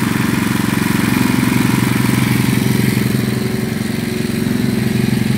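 Small engine fitted with a new carburetor, running rough with gas getting into the oil, chugging in a steady rapid pulse up close, loud and alone.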